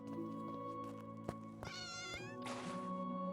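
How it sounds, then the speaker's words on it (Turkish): A big cat, a lion or tiger, in the Gedonia video game gives a short rising, wavering yowl followed by a rough, breathy snarl, heard close over a steady game background hum. "Bu nasıl bir kedi oğlum? Bu aslan lan. Kaplan lan bu."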